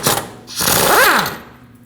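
An impact wrench with a 22mm socket rattles briefly on the lower ball joint mounting nut of a 2005-2021 Nissan Frontier 2WD, a short burst of hammering whir that rises then fades.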